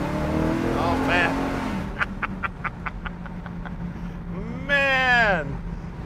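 A 1972 Chevrolet El Camino with a GM Performance engine runs close by, its rumble rising and falling through several revs, while someone talks over it.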